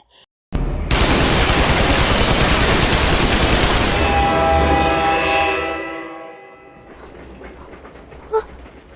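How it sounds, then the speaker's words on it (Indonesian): A demon hunter unleashes brutal gunfire on a demon, a loud, dense, continuous burst lasting about five seconds before it fades into a quieter rumble. "Dante telah menembaknya dengan sangat brutal"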